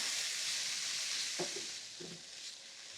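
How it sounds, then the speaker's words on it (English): Onions and mushrooms frying in a pan for a creamy plant-based mushroom rigatoni, a steady close sizzle over gentle heat with a few soft stirring scrapes partway through. "we'll let the onions cook a bit longer on a more gentle heat so they don't burn"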